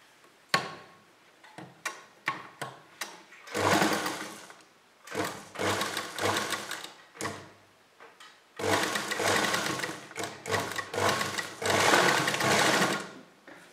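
Sewing machine stitching a fabric strip onto a kurti neckline, running in several short bursts and longer steady runs with brief pauses between, close and fairly loud.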